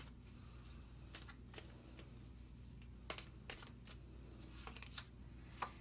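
Tarot cards shuffled and drawn in a quiet room for a Gemini reading, a soft riffling run broken by several brief sharp card snaps and slaps at uneven intervals over a low steady hum.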